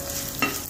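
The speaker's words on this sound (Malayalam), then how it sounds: "മല്ലി ഒന്ന് മൂത്തോട്ടെ." Whole coriander seeds roasting in a pan for onion sambar, heard as a faint, steady sizzle with one brief scrape of stirring near the middle, close and unaccompanied by speech.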